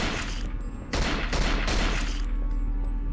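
Gunfire in the video game Cold Fear: several loud, dense bursts of shots crackle in quick succession, separated by short gaps, with no voices over them.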